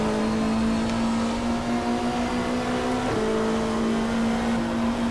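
Super touring race cars run on the Gold Coast street circuit in 1995, a loud continuous engine drone holding a steady pitch with a brief shift midway, dense and unbroken with no voices.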